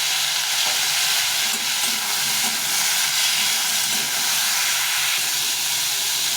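Potato and bitter gourd frying in a pan for a fish curry, with a splash of water added by hand, give a steady, close, dense hiss and sizzle that holds throughout without any talking.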